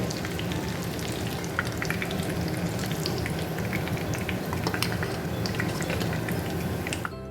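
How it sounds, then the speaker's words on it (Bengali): Vermicelli cutlets fry in hot oil, a steady dense sizzle with crackling pops running the whole time, close and fairly loud, no voices. "এক সাইড আমার লাল হয়ে গেছে, এখন আরেক সাইডে ভাজা বাকি আছে"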